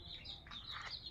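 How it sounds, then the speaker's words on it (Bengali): Small hen's chicks chirp softly in a brood, a few thin high peeps and tweets overlapping briefly, faint and close with low background rumble. "একটা মুরগির অনেকগুলো বাচ্চা"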